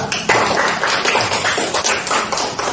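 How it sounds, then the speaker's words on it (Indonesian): A group gives steady, dense applause to a presenting group in a classroom, many hands clapping fairly loudly throughout the whole stretch. "kita berikan aplaus untuk kelompok 3"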